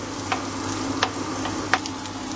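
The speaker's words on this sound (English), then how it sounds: "So now we add our onions. Just make sure they get cooked very well." Onions fry in melted butter in a pan, a steady close sizzle with a few soft clicks of stirring rising above it.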